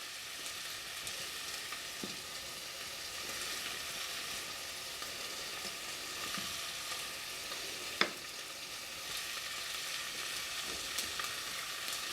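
Mushrooms sauté gently in a pan, giving a faint, steady sizzle and crackle with the odd small pop or utensil tick, alone and without talk.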